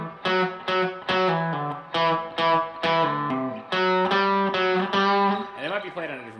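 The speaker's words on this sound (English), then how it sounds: "And then the second guitar that comes in, I think it's after 2 times around, sounds like this." Distorted electric guitar plays the second harmony riff of a song, a run of loud, rapid galloping notes in short repeated phrases, alone without talk, ending on a bending note.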